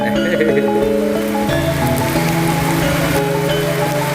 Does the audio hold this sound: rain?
yes